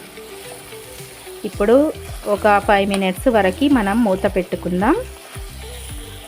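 Spicy boti curry frying in a pan, a steady sizzle running beneath someone speaking for most of the clip, the frying sound staying close and continuous.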